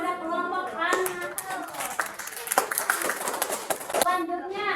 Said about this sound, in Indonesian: berikan tepuk tangan kepada kelompok An-Nahl